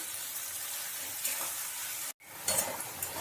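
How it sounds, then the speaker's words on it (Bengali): Onion fries in hot oil in a pan, giving a steady, fairly loud hiss and crackle that cuts out for a moment and then comes back with light stirring noises. "পেঁয়াজটাকে আমাকে একটু ভেজে নিতে হবে।"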